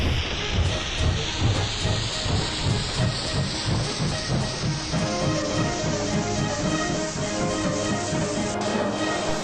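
A steam locomotive heading out to pick up a morning express hisses steadily and loudly, with rhythmic chuffing puffs that quicken and blur together as it gets moving.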